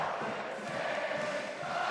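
Home crowd at a Utah State basketball game against San Diego State cheering and roaring steadily, a dense sustained wash of voices filling the arena for the whole stretch.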